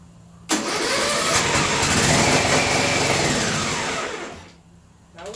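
A John Deere riding mower converted for mud running fires up and roars at high throttle, a loud, rough, steady engine drone that runs several seconds, then drops off near the end as it stalls.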